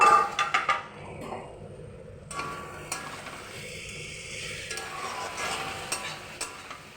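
Clinks of a pot lid and a utensil scraping and stirring cabbage and potato with spices in a pan, with a soft sizzle of frying underneath.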